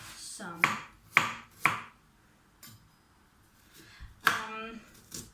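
A few sharp knife chops through ginger on a board, spaced irregularly, with a pause before a final louder chop.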